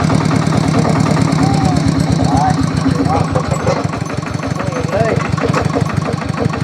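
A car engine idles steadily through the whole stretch while it is being parked near a house post, a low continuous rumble under people talking nearby.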